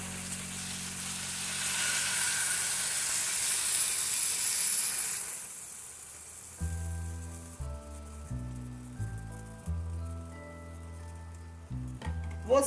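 Loud, steady sizzling hiss for about six seconds as beef broth hits a hot pan with bean sprouts and meat, then it fades out and soft music with low notes takes over.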